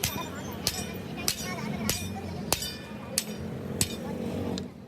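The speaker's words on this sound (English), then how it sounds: "these workers are hammering the bushings into place manually" Workers manually hammer bushings into a heavy truck's leaf spring, striking about seven sharp metallic blows at a steady, even pace over a low background hum.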